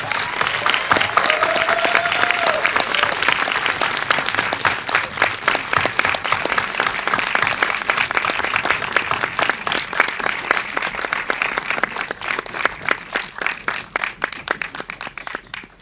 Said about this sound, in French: Merci d'applaudir très chaleureusement Penélope Cruz.